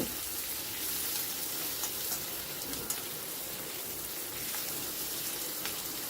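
Onion cooks with ridge gourd in a pan over a high gas flame while being stirred, a continuous rain-like hiss of frying with faint scrapes, steady and unbroken throughout.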